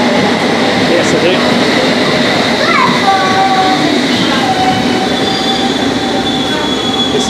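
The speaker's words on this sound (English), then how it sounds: "This is the first ever time that I've finished has been on the underground train." London Underground Metropolitan line S8 train running: a loud, continuous rumble of wheels on rail with high squealing tones rising and fading, heard from inside the carriage.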